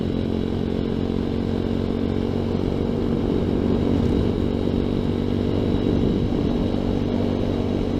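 A ZS190 Grom clone motorcycle engine drones steadily and loudly throughout a ride, a constant buzzing hum with faint wind rush and no breaks.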